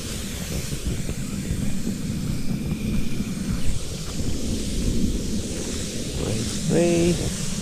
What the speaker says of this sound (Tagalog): Kumukulog, nagbabanta ang ating ulan.